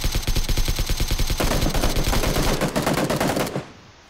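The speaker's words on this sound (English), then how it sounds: "I have no idea where he was shooting me at." Automatic gunfire in the video game PUBG, a loud, close, rapid burst of shots in a fast regular rhythm that runs for about three and a half seconds and then cuts off.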